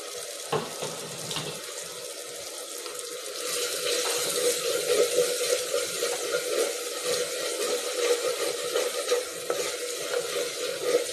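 Tomato masala for tomato chops simmers in a clay pot, giving a steady soft sizzle and bubbling that grows a little busier partway through, close and continuous with no talk.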